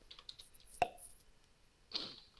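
A mouth pop like a cork being pulled, a single sharp snap near the start followed a second later by a softer breathy burst, close and fairly quiet with no talk.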